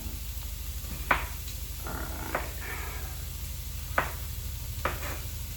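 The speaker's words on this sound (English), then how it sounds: "easily slide the knife in the bridge that your 2 middle fingers and your thumb make over the half of the onion" A knife dices an onion half on a cutting board. Four sharp, separate chops land a second or so apart over a low steady background hum.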